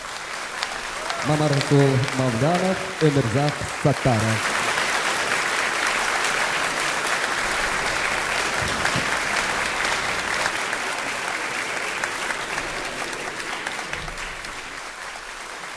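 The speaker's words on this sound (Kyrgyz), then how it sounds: "Авторлорго да кол чаап койсоңуздар." A concert hall audience breaks into dense, sustained applause that fills about twelve seconds, following a brief spoken announcement over the start of the clapping.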